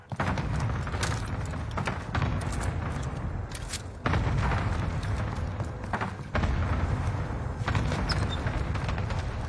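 Deep, heavy booms from an airstrike in a video game roll in a continuous rumbling barrage, loud and dense for the whole stretch, with sharp shifts where new blasts begin.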